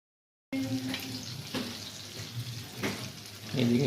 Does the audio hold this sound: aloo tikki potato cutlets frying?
yes